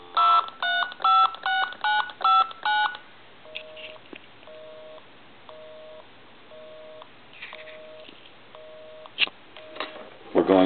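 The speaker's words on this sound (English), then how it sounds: "I'll dial my number and it'll be busy." Number dialed on a CA67 military telephone during repair: a rapid run of about seven touch-tone beeps, then a repeating pulsed busy signal, clear and close with no talk.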